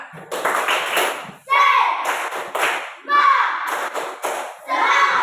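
Schoolchildren repeat the tepuk semangat spirit clap together. Their rhythmic, patterned group clapping comes in close, loud bursts mixed with young voices chanting in time.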